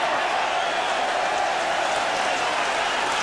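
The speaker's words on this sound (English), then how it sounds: "Well, the crowd enjoyed that." Football crowd at a 1984 Luton Town versus Manchester United match, a steady broad roar of cheering and clapping from a large stadium audience, continuous and fairly loud throughout.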